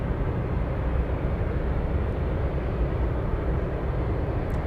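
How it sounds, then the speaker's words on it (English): A large jet, likely a Boeing 747 Dreamlifter, passes over Anchorage airport with a steady, loud broadband roar that holds for several seconds. "love the sound of the airplanes passing by"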